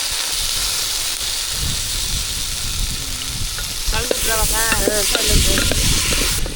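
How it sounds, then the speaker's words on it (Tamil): Onion and garlic sizzling steadily in a frying pan with a hissing, crackling texture, then a louder burst of spattering and stirring as tomato is added, under no talk. "வெங்காயம் பூண்டு நல்லா வதங்கிடுச்சு தக்காளி சேர்த்துக்கலாம்"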